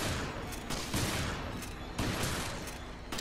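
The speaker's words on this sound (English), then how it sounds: "I missed with a shotgun" A shotgun fires in Resident Evil: Revelations, with two loud, close, broadband blasts about a second apart over a steady, noisy game background.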